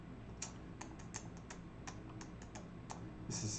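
Keys on a computer keyboard are struck in a quiet, irregular series of sharp clicks, with a denser flurry of keystrokes at the very end.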